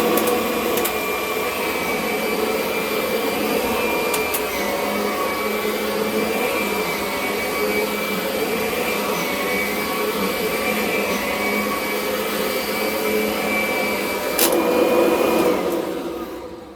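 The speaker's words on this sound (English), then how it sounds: "You should vacuum at least 2 or 3 times before you vacuum or shampoo the carpet" A Hoover upright carpet cleaner vacuums a carpet with a loud, steady motor whine and airflow roar that runs unbroken throughout, with a brief surge near the end.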